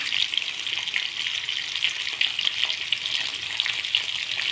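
Rohu fish sizzles in hot oil in a pan for a dish with raw banana, seasoned with ginger-cumin paste and dry chilli powder. The frying crackles steadily and close up, with small bursts of spitting.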